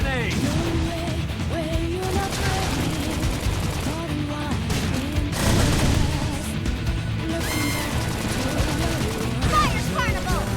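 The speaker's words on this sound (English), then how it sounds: "Flame grenade." Flame grenade attack in Xenoblade Chronicles X, a dense, continuous barrage of bursting blasts and crackling impacts layered with game voices and music, loud and busy throughout.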